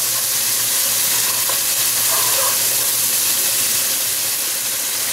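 Sofrito base for a lentil and smoked rib stew sizzles steadily in a pan, a loud, even frying hiss with a low hum underneath and no talking.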